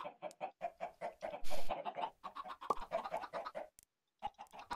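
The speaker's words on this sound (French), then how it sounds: "On a beaucoup de poulets, hein." Chickens in the Minecraft video game cluck in a quick, steady string of short calls, fairly close and loud, with a brief scratchy burst partway through and a short gap before the clucking resumes.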